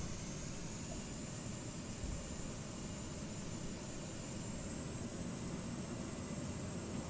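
Aircraft engine in Microsoft Flight Simulator 2020 while taxiing at Manila, a steady, quiet, unbroken drone with a high whine running through it.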